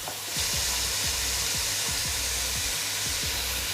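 Sliced onions sizzle and fry steadily in a hot pan for chicken biryani, a close, continuous hiss broken by faint regular scraping of a spoon stirring them, with no voices.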